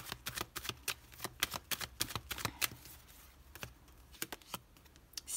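Rider-Waite tarot cards being handled, with a quick run of crisp riffling snaps and taps as the deck is shuffled and cards are laid out, close and fairly quiet, with no talking.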